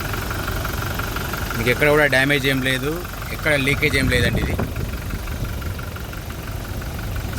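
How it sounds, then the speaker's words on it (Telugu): A steady, low diesel engine idle from a 2022 Toyota Innova Crysta 2.4 V rumbles throughout while someone talks over it. "ఇంజన్ సౌండ్ చూసుకుంటే మాత్రం ఇట్లా స్మూత్ ఉందండి"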